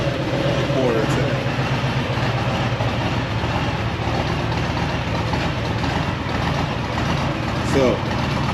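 A Harley-Davidson Street Glide Special motorcycle idling nearby, a steady low rumbling throb that runs unbroken throughout.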